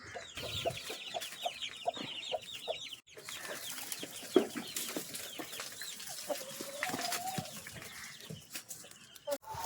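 Chickens cluck steadily around a farmyard at morning feeding time, with hens and chicks mixing in repeated near and far clucks, occasional louder calls and a brief rooster-like note, and no talk.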